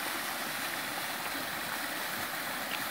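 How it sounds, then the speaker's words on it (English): Dunnotch Falls on the Appalachian Trail pours in a steady, dense roar of rushing water, with no breaks over the short stretch. "Waterfall."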